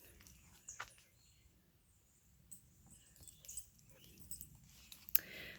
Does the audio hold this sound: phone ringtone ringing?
no